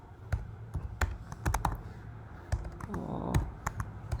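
Code being typed on a computer keyboard: clear, close keystrokes come in irregular bursts with short pauses between them and faint room noise underneath.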